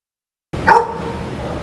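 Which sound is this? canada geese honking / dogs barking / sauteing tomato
dogs barking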